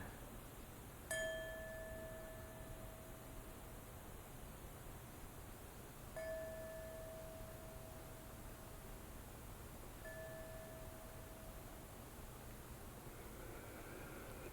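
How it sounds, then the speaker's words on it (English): A meditation bell is struck three times, several seconds apart. Each strike leaves a clear, pure ring that fades slowly over a soft background hiss. "I just want to sound the bell just for a minute and just invite you to listen to it."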